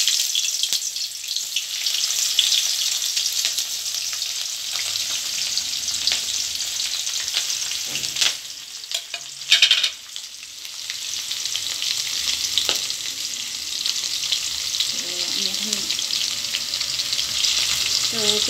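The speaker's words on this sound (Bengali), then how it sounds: "আমি এখন পেঁয়াজ কুচি, রসুন কুচি আর হচ্ছে কাঁচা লঙ্কা কুচি দিয়ে দিচ্ছি।" Chopped onion, garlic and green chili sizzle steadily in hot oil in a wok, a continuous hissing fry with occasional stirring clatter and a brief gap partway through.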